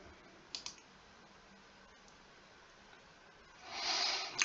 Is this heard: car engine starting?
no